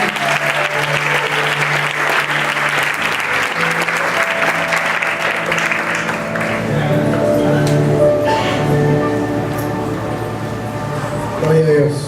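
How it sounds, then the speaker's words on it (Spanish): A church congregation claps loudly and continuously for several seconds at a service, with voices calling out over the applause as it carries on. "Den un aplauso al Señor."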